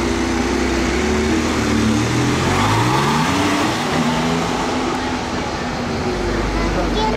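A rare car's engine revs up in Monaco, its pitch climbing gradually and dropping back while a steady broadband road rumble continues throughout, close and loud.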